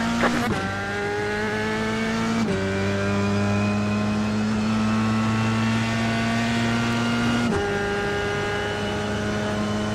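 Race car engine in iRacing, loud and close, holding a steady high-revving drone with sharp gear shifts that briefly drop the pitch before it climbs again, with no talk over it.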